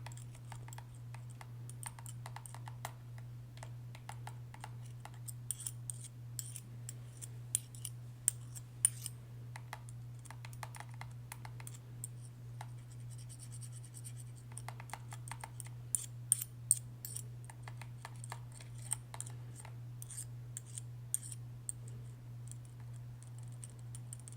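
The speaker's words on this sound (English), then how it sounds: "I have these Allen wrenches here, these little metal tools. I'm just gonna come in and poke and prod." Small metal Allen wrenches poke and prod in close, quiet ASMR fashion, making scattered light clicks and taps with irregular rhythm over a low steady hum.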